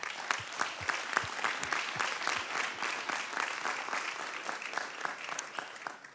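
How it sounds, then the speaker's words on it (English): A room at an Open Government Partnership session in New York breaks into a warm round of applause, steady dense clapping from a moderate-sized audience with a few sharper claps standing out near the front, sustained throughout without talk. "A warm round of applause"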